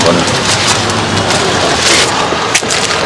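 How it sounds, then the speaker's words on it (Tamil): Steady rain falls throughout at a roadside free-food service for sadhus on the Girivalam path in Tiruvannamalai, a dense even hiss that stays constant with a brief dip near the end. "மழையும் அதிகமாகவும் பெய்ய மாட்டேங்குது, கம்மியாகவும் பெய்ய மாட்டேங்குது."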